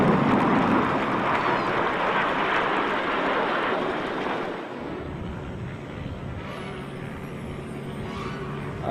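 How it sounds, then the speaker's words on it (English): Red Arrows display jets breaking away from the leader in pairs at the 1997 Swanage airshow, a loud, broad roar with wind buffeting that slowly eases and fades into the distance. "each pair of aircraft will break away from the leader in turn"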